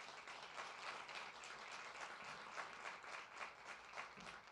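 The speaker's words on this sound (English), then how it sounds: "Let's give our presenters a nice round of applause" Audience applause for the presenters at a NASA briefing on the Mars InSight landing: steady, dense clapping from a crowd, fairly distant and even throughout with no talk over it.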